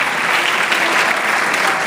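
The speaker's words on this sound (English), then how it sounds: "Please give yourselves a round of applause as well." Audience at a graduation ceremony for the class of 2013 applauds with steady, dense clapping filling the whole moment, loud and sustained with no voices standing out.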